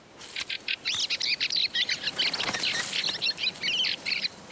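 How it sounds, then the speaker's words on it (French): A flock of fieldfares, thrushes wintering from the far north, feeds among leftover pears and apples in a winter orchard, giving a rapid run of harsh chattering calls over soft outdoor background noise. "Elles font le bonheur des grives litornes venues du Grand Nord pour hiverner."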